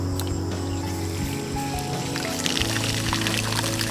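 Gravity-fed water from a pond line pours out of a pipe with steady, pressurised flow, a continuous close splashing wash that runs unbroken throughout, with a low hum underneath.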